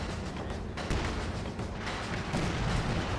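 An M36 Jackson tank destroyer fires in Company of Heroes 2, its heavy booming shots rolling through a dense, loud rumble of battlefield noise that carries on without pause.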